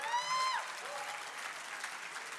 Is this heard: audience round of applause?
yes